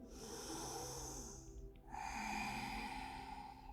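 Deep breathing during a yoga session: a long audible inhale, a brief pause, then a fuller, breathy exhale, close and soft with no talking.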